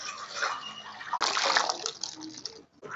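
Water poured and splashed over small cut pieces of watermelon rind for washing, a close, bright gush with sloshing that briefly stops near the end.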